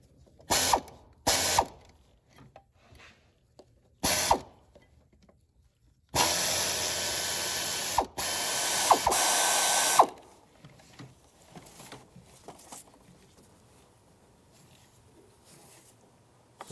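A hand ratchet working 10mm bolts on the back of a valve on a 2006-2011 Cadillac DTS: a few short sharp bursts of clicking, then a longer steady loud rasping hiss, then quieter scattered tool noises.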